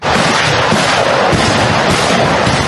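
A Grad multiple rocket launcher fires in the Serebryansky forest, a loud, continuous roar of rapid rocket launches blurring into one dense rushing blast, close and sustained.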